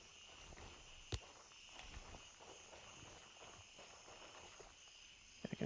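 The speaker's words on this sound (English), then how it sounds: "I can hear the footsteps." Footsteps in the military shooter Gray Zone Warfare, faint irregular treads at a distance over a steady insect-like outdoor ambience, with one sharper knock early on and a few louder thumps at the end.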